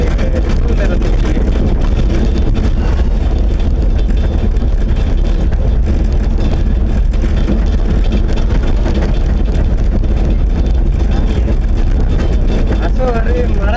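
Road traffic passing on a rural road, with a tractor and two motorbikes going by, a steady continuous engine rumble throughout, fairly loud and close.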